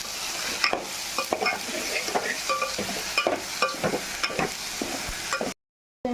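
Pieces of taro root fry and sizzle steadily in a pan, with repeated scraping stirs and spoon clinks over a constant hiss, close and fairly loud, before cutting to brief silence near the end.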